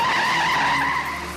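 Tires squeal as a car speeds away from a road collision scene. The screech is loud and sustained, with a steady high whine that eases slightly toward the end.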